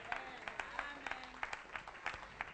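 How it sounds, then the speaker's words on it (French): A church congregation clapping during a sermon, a brisk rhythmic patter of many hands, faint and somewhat distant, with voices murmuring beneath. "Applaudissez un peu Jésus"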